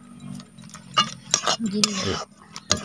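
A spoon stirs a rice and lime mixture in a pot in a village kitchen in Odisha, giving irregular scraping and clinking strokes, a few sharper knocks against the metal and a soft background hum.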